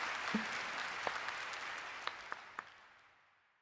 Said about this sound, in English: Yay, let's clap.